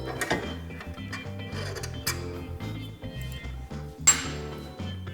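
Sway bar links being removed from a Polaris General side-by-side, a close run of rapid ratcheting clicks with tonal metallic whirs in short repeated bursts, punctuated by a few sharp metal clinks.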